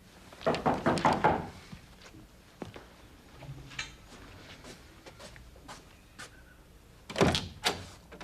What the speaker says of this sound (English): I guess I didn't hear your first two knocks.